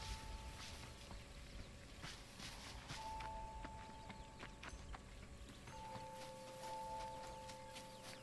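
Horse hooves clip-clop faintly in Red Dead Redemption, a soft, uneven run of distant hoofbeats over a quiet outdoor ambience with a thin sustained tone.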